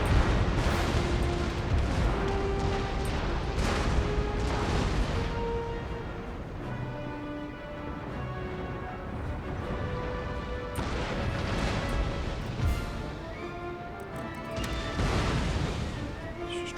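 Cannons fire round shot in a Total War: Empire naval battle, a steady stream of heavy booms and crashes that rise and fall in dense volleys over a low rumble.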